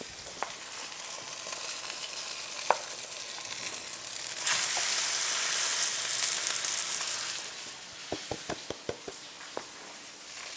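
Chicken pieces for Nashville hot chicken fry in oil, a constant close sizzle that swells louder midway, with a few sharp knocks and taps near the end.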